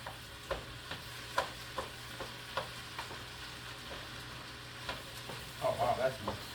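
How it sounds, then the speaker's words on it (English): Spoon stirring a veggie soup with beef and chipotle in a pot: quiet, repeated soft scrapes and taps at an irregular rhythm over a low simmering sizzle, with a small cluster of clinks near the end. "We're gonna stir."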